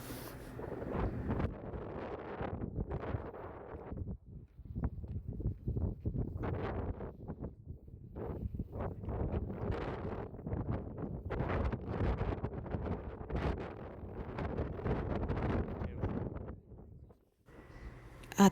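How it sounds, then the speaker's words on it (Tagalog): Strong wind buffets the microphone at a mountain summit near a cable car station, roaring in gusts that rise and fall almost continuously, loud and close, then briefly dropping away near the end. "malakas ng hangin dito guys. Kasi nasa tuktok ito."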